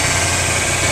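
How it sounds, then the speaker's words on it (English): A V4 engine idles with a steady, loud, even hum and low rumble, heard close up with no talking over it in this short stretch. "V4 engine,"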